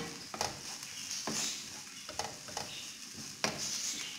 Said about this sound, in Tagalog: nangamoy na yung ating sibuyas. Halo-haloin lang natin para wag siyang masunog.